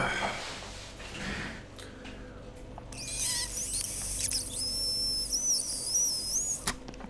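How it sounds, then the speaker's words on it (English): Air forced out through a person's right eye while blowing with the nose plugged, heard as a few thin, high squeaks and whistling chirps close up over quiet room noise, with no talking. "That was the sound of air coming out of my right eye."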